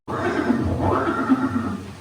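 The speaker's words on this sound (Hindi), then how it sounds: "ये दृश्य महाराणा प्रताप और सुविख्यात स्वामी भक्त घोड़े चेतक के अंतिम मिलन का है।" A horse whinnies loudly and close by in a single long neigh, in a scene showing the Maharana Pratap and his horse Chetak.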